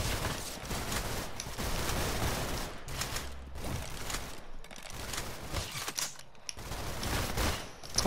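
Rapid bursts of dual SMG fire in a shooter video game, dense rattling volleys broken by short pauses, loud and close throughout.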